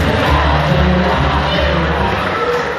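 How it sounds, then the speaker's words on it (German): Festival crowd at a tombola raffle at the Rogätzer Blütenfest, loud and close, with shouts, whoops and general crowd noise continuing throughout and a few voices standing out. "Applaus für unseren Gewinner."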